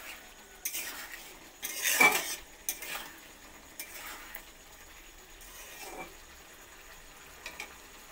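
A spoon stirs and scrapes potatoes mixed with dried fenugreek leaves in a pan, making scattered clinks and metallic scrapes with one louder clatter near the start and softer, irregular stirring noises afterward, with no voices.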